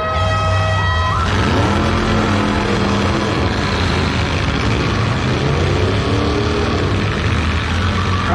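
Demolition derby cars at the Wyoming State Fair roar into motion, engines revving loudly with rising and falling pitch sweeps as several vehicles accelerate together, continuous and close.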